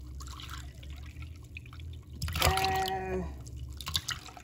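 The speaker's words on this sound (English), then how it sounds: "So I'm pouring my milk." Milk pours from a carton into a bowl or measuring cup while making banana pudding in a home kitchen, a steady close liquid trickle and splash rising to a fuller gush midway.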